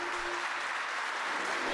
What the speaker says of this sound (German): tosenden Beifall.